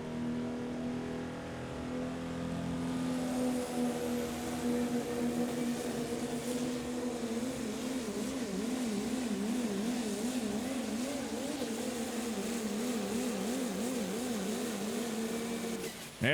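A Pro Stock diesel pulling truck's engine revs hard during a pull at a 2019 Terre Haute, Indiana event, heard from a distance as a continuous droning roar whose pitch wavers and surges throughout.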